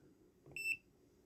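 An Ames DM600 digital multimeter gives one short, high electronic beep, faint and close, over quiet room hum.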